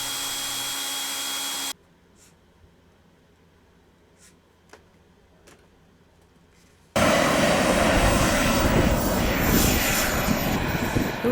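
A model turbine jet engine on a small aircraft roars loudly during a taxi test, with a harsh high-pitched whine that cuts off to near silence with faint clicks, then returns at full, steady power.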